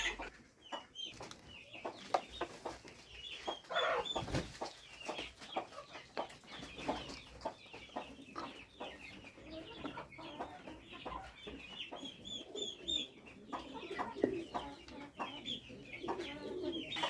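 Several chickens cluck and chatter continuously nearby while eating feed, a busy, scratchy flock sound with occasional sharper calls and no talking.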